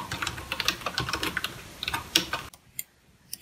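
Typing on a wireless keyboard connected to a phone: rapid, uneven key clicks close by, ending in a few sparse taps.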